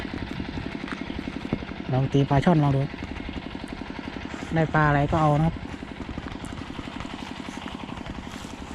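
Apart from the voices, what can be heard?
long-tail boat engine running nearby, cutting grass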